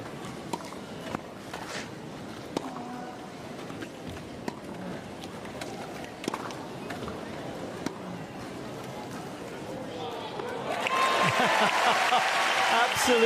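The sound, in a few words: applause at a wheelchair tennis match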